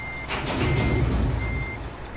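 A Marco Polo G6 4x2 bus in Euro Truck Simulator 2 gives steady, evenly spaced reversing beeps over a low engine idle, with a brief air-brake hiss, all close and moderately loud.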